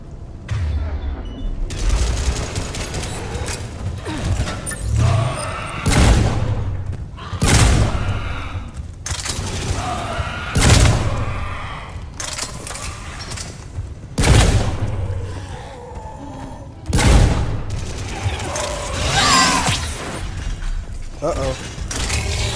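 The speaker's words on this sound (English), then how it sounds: "Foxtrot and Bravo are taking heavy fire." Heavy gunfire and explosions in a Mass Effect 3 battle for Earth: repeated loud booming blasts every few seconds over continuous rattling weapon fire and mechanical clatter.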